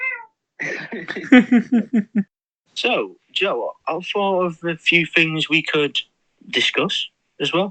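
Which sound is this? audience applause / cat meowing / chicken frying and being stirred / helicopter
cat meowing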